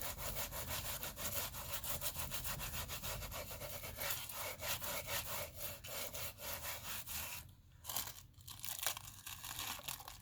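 Press and seal plastic wrap rubbed down firmly over die-cut paper pieces, a steady close scrubbing and rustling that runs continuously, with a couple of brief pauses near the end.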